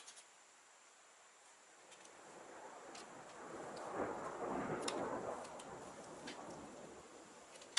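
A low, rolling rumble of thunder swells slowly through the middle and fades again, distant and heavy, with a few faint ticks above it.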